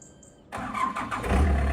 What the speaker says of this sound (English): Engine sounds sweet, isn't it?